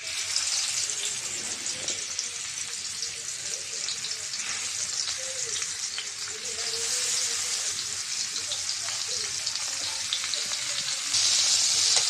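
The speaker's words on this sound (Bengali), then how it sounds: "তেলটা গরম হয়ে গেছে, মাছটা দিয়ে দিব।" Taki fish sizzles in hot oil in a kadai, a dense, continuous close-up frying hiss with faint stirring and scraping, steady throughout and briefly louder near the end, with no speech.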